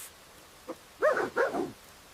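A small dog barks a few quick times, close and clear, with a faint yip just before the main barks and quiet surroundings.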